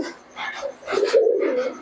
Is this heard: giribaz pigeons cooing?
yes